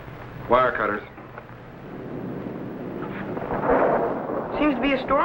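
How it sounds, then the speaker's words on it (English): Low rumbling thunder of an approaching storm rolls through steadily, swelling louder toward the end, with voices speaking briefly over the rumble at the start and again near the close. "Seems to be a storm coming out."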